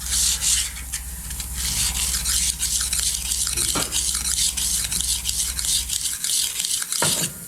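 A blade edge is dressed by hand on a diamond hone, giving a steady gritty scraping rub in continuous back-and-forth strokes, close and fairly loud, with no talking.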